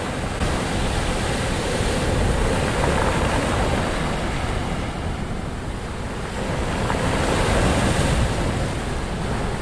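Sea waves surge and wash steadily into a natural rock pool on a coastal hike, a loud continuous roar of surf mixed with wind noise across the microphone, with no voices.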